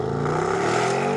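A Lamborghini Urus in Corsa mode with launch control holds its engine at high revs on the brake, a loud, sustained droning roar with pitch climbing steadily upward.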